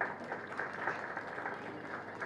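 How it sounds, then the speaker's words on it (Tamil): Audience at a book launch event giving a round of applause, a dense, steady patter of many hands clapping at moderate distance, sustained for the whole stretch with no speech. "நாங்கள் அவருக்கு ஒரு கைத்தட்டல் கொடுப்போமே."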